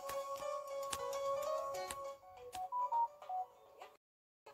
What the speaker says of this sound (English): I think I got a message on my phone.